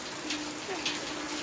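Rain falling outside a home, a steady soft wash of drops that stays fairly faint and even throughout, with no voices.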